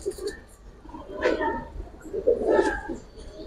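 Young homing pigeons of the Safchila breed give two soft coos close by, separated by brief pauses, with faint background murmur.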